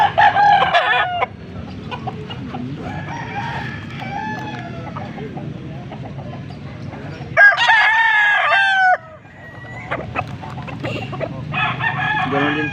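A gamecock stag rooster crows several times, loud and close, with clucking and other fowl calls around it at a rooster farm; someone talks in the background.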